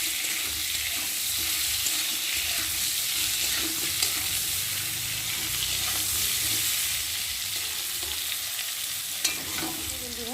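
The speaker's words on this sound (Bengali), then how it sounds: "তেলের মধ্যে ঝিঙেটা দিয়ে একটু ভালো করে ভেজে নিয়েছি, আর একটু ভালো করে নেড়ে চেড়ে" Sliced ridge gourd sizzles steadily in hot oil while a utensil stirs and turns it in the pan, a constant close frying hiss with occasional soft scrapes and clinks, no voices.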